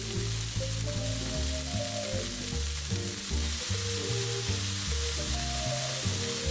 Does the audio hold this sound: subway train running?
no